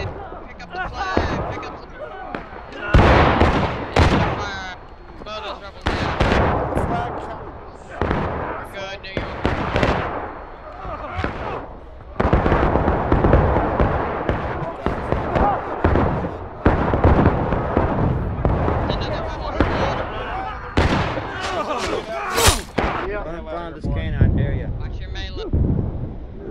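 Repeated musket volleys and scattered gunfire in the Civil War game War Of Rights during a Union garrison defense, loud bursts crowding the whole stretch while shouted voices talk over the battle.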